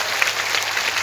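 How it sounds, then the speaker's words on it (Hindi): Crowd at a political rally welcoming Jyotiraditya Scindia with sustained, fairly loud clapping, a dense even wash of hands throughout with a few sharper claps standing out. "एक बार दोनों हाथ ऊपर उठा के ताली बजाकर सिंधिया जी का स्वागत करें"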